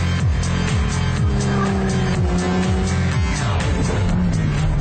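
Several race car engines roar continuously at close range with rising and falling revs, rapid gear-change sweeps and passing sounds, joined by brief tire squeals, loud and dense with no talking.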